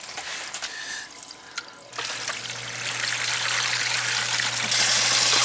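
Two sump pumps running and pushing water through hoses, a steady trickling, gushing flow with a low motor hum that starts and builds partway through.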